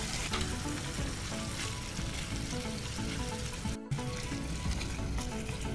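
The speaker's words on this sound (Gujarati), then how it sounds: "ટામેટા ઉમેરીએ છે એ પછી જ આપણે તરત મસાલા કરી લેવાના છે" Finely chopped tomatoes hiss in a hot pan of oil while paneer masala is being cooked. The sizzle is loud, dense and continuous, with a brief dropout partway through and no voices.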